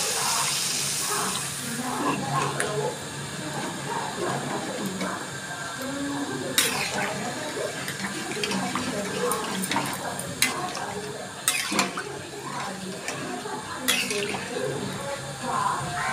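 Water pours and sizzles into a pan of Bengali fish curry with parshe fish, a steady hissing wash broken by a few sharp clinks, while a voice talks over the cooking.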